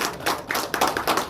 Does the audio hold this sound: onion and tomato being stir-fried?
no